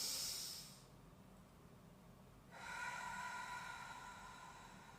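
A forceful breath pushed out during an abs exercise, heard as two strong close hissing exhales separated by a brief pause.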